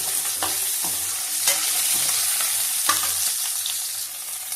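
Radish pieces fry steadily in a pan over a medium gas flame for a village-style thuvaiyal, giving a continuous close sizzle broken by a few sharp scraping clicks from stirring.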